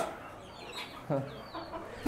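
Fancy chickens kept on a rooftop give a few soft, scattered clucks, quiet and fairly close, with low background noise between the calls.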